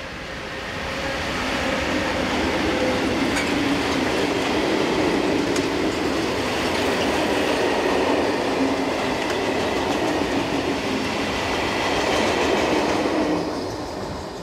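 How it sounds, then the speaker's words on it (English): A heavy freight train carrying steel coils rumbles past nearby, a loud, steady roar of wagons with faint clicking and metallic squeal, fading slightly at the end. "Steel coil trains are fairly common here."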